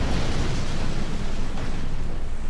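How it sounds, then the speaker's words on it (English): Nuclear explosions in the Command & Conquer strategy game, a heavy continuous low rumbling roar with dense crackle, loud and sustained throughout without any voices. "Yes, that was probably nuclear explosions doing the killing there"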